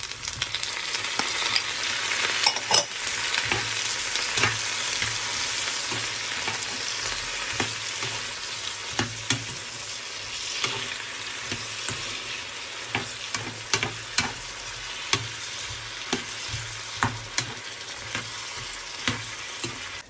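Tomatoes hiss and crackle in hot oil in a pan for paneer butter masala, a loud continuous sizzle broken by the sharp scrape and clack of a stirring spoon.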